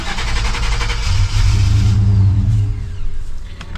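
A worn beater car cranks and fires, its engine catching in rough low bursts but never settling into a steady run because of a suspected fuel pump fault, loud and close with a brief rising surge before fading back.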